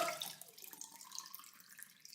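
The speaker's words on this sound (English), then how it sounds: "And then I'm going to pour it into my milk bottle and see if I'm right." Water pours from a mug into a milk bottle, a quiet, steady trickle and splash with gurgling that tapers off over a couple of seconds, faint and close with no talking.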